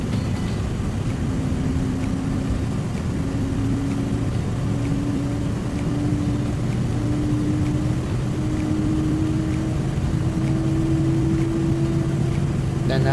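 Jet engines of an LVFR A320ceo running in the flight simulator MSFS 2024: a steady, loud turbine roar with a slowly rising whine, continuous and unbroken throughout with no talk.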